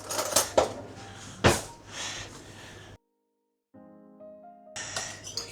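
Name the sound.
fork pressed into pie dough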